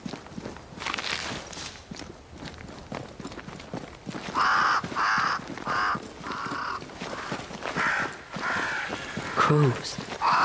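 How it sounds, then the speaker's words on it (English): Crows caw in a burst of harsh, repeated calls partway through, with footsteps and occasional hoof-like clops in the Banishers: Ghosts of New Eden game world, plus a short cry near the end. "Crows. They flock to that great tree up there."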